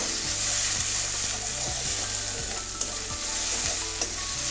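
Cauliflower frying in oil with bay leaves and green chillies, a steady close sizzle with repeated scraping stirs of a spatula against the pan.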